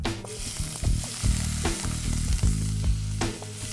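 Chopped onion with ginger-garlic paste and turmeric frying in hot oil for a Marathi fish curry, a loud steady sizzle close by with occasional stirring scrapes, no talk.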